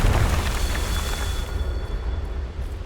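A fiery Confringo spell explosion in Hogwarts Legacy, a loud, broad roaring blast that rumbles and slowly fades over a few seconds, with no other sounds.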